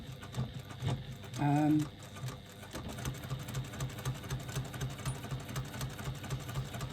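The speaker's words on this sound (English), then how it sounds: "just adding this extra line of stitching" A sewing machine runs in short bursts of rapid rhythmic stitching as an extra line is sewn on a wristlet. The sound is quiet and close, with a brief louder whir partway through.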